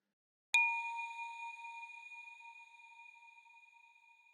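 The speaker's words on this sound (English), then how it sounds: "For the chime, I added some juicy reverb." A single synthesized chime from the Objekt physical modeling synthesizer, struck once and ringing with a clear metallic tone and lush reverb, fading slowly over about four seconds.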